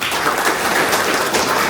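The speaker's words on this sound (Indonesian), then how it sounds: "Tepuk tangan dong." Short burst of audience applause at a durian seedling center launch in Sukabumi, a dense, steady wash of clapping with no talk over it.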